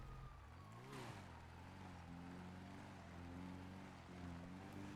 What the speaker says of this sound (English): I heard police sirens.